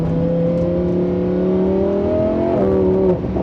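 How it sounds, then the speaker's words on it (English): Lamborghini Huracan accelerating hard, a loud close engine note with strong rising harmonics climbing steadily, then a sharp shift and a crackle near the end as the exhaust pops. "the exhaust cracks are pretty wild, and the way this car reacts to everything you do"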